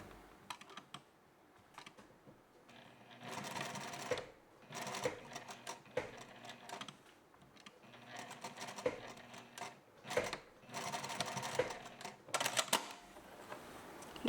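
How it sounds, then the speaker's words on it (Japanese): A sewing machine stitches along the edge of scalloped lace on a skirt-culottes garment, running in quick, rattling bursts separated by brief pauses, close and steady with no voices. "レースの形に合うようにステッチをかけてみました"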